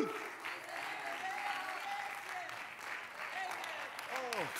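Church congregation clapping their hands in worship, a dense steady wash of applause throughout, with faint voices and exclamations mixed in underneath.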